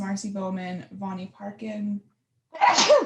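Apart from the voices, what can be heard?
sneeze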